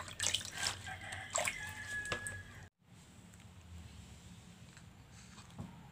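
Water drains and trickles off freshly washed vegetable leaves (spinach, mustard greens, cassava and water spinach) set aside to dry. The soft dripping and splashing is faint and close, breaks off briefly, then settles into a quieter patter.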